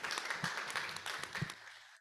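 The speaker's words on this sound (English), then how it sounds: "if we could all give Angela another round of applause" Audience applause fills a conference session hall after a presenter finishes, a dense, steady patter of many hands that fades out into silence at the end.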